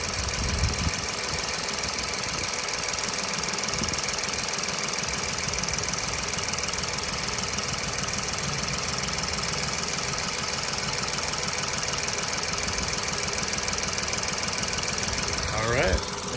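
A 2012 Ford Focus SEL hatchback engine idles steadily with a rhythmic knocking tick throughout, close and constant, with a faint brief voice near the end.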